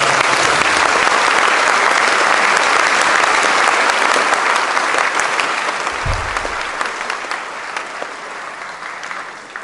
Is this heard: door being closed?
no